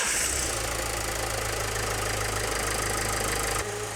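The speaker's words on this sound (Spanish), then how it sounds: "como está el motor recién arrancado, aún tenemos un caudal un poco elevado" A Bosch EDC-17 CP4 common-rail diesel engine idles just after starting, a steady, close, loud rumble with a low throb and no voices.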